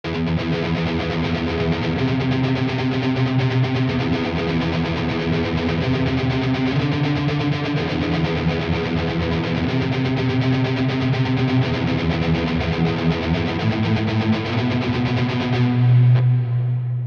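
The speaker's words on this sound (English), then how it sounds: "Definitely a really nice reverb for sure." Electric guitar played through the JST Toneforge Disruptor with a reverb post effect, a loud, sustained, distorted wash of chords ringing out continuously, alone and without talking.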